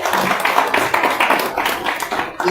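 Audience clapping for a speaker at a Kakamega business forum: a short, uneven burst of hand claps from a room of people, sustained throughout with no voices over it.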